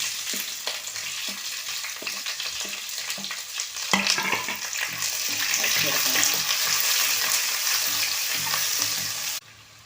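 Mustard seeds, dried red chillies and shallots fry in hot oil. The sizzle is loud and close, with crackling pops and stirring throughout, and it grows busier toward the end before cutting off.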